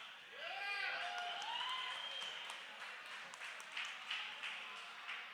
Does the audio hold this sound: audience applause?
yes